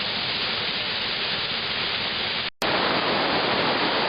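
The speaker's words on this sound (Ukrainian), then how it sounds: "Ось тут починається наш водоспад" Zhenetskyi waterfall in the Carpathians roars as steady, loud broadband rushing water, continuous and close, broken only by a split-second dropout midway.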